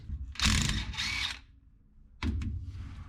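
A ratchet wrench loosens bolts on the rear differential of an old U-Haul truck, giving two quick bursts of rapid ratcheting clicks close by, then a pause and a third burst.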